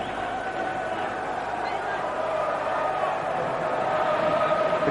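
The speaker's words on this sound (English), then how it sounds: "the crowd from West Germany, banging on the drum, singing their songs" A West German ice hockey crowd at the 1990 world championship relegation game against Norway roars steadily in the arena, a loud continuous babble of chanting and singing with drumming buried in the mass, under commentary.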